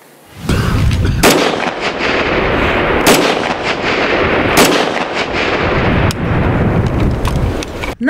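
Gunfire at sniper training, loud and continuous, with heavy booming shots and sharp cracks in quick succession that echo across open ground.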